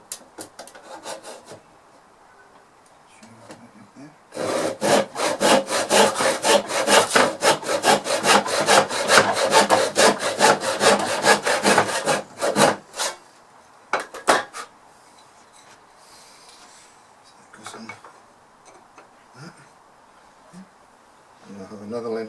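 A hand saw cuts a length of wood for a grandfather clock in fast, loud, rhythmic back-and-forth strokes for about eight seconds, then a few scattered scrapes and quieter handling sounds.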